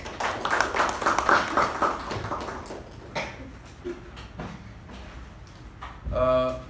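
Applause at a Toastmasters club meeting, a burst of clapping that gradually thins into scattered individual claps, with a voice starting to talk at the end.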